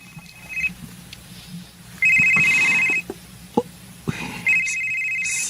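A telephone rings with an incoming call, sounding in repeated electronic trilling bursts separated by pauses, loud and close, with faint room knocks and movement between rings.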